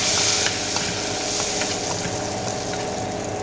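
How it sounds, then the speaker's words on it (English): Curry leaves crackle and sizzle in hot oil in a pan, a loud and continuous hiss with faint stirring scrapes, close and with no voices. "Next you can throw in your curry leaves. Give everything a good mix."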